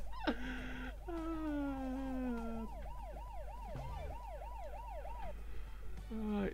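Turbo Dismount police car siren wails in a rapid, looping warble, steady and prominent for several seconds, with game sound effects and short tones cutting in at the start and end.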